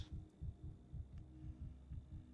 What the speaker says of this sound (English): Fast heartbeat.